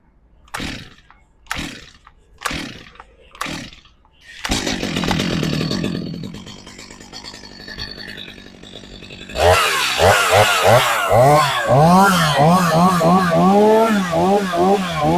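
A few sharp pull-start yanks, then a Stihl MS250 chainsaw engine catches and idles, later revving loudly with rising and falling whine; no clear talking.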